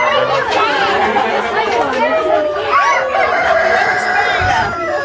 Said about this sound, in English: Wow, look at these big old roosters, man.